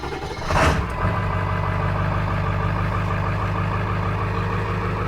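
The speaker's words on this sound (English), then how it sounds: "So now let's go ahead and start the engine." A 2001 Ford F250 Super Duty with a 7.3 Powerstroke diesel cranks briefly and fires, then settles into a loud, steady idle close by.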